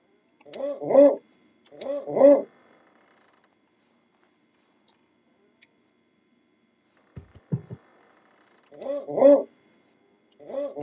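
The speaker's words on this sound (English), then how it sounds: "We got our barking sound in there." Cartoon dog barks from a 2D platform game, sounding in short paired bursts near the start and again near the end, clear and close, with a soft mechanical click between them and no talk.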